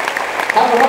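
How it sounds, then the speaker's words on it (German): A live comedy show audience gives short applause at an outdoor tent festival in Bochum, a brief dense wash of clapping with murmuring voices mixed in, loud and continuous through the second. "Kleiner Applaus für Klaus, toll."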